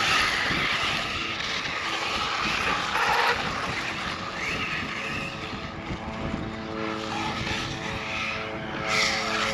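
A Typhon RC car runs on an outdoor track, its electric motor whining at high speed and tires scuffing and skidding in a continuous loud rush, with wind noise throughout.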